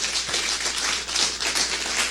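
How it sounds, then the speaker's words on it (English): An audience claps in a round of applause, a continuous dense patter of many hands at moderate loudness that carries on evenly from start to finish. "Can we give him a round of applause?"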